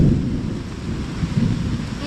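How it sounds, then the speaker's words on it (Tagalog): Heavy rain falls in a forest with low rolling thunder beneath it, a steady broadband wash with deeper rumbles swelling near the end. "Inabot na pati ng ulan."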